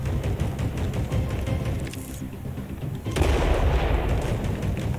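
Steady, dense gunfire and explosions from the Android shooter action RPG Evolution 2: Battle for Utopia, with rapid repeated shots over a continuous loud battle din that briefly dips and then surges again.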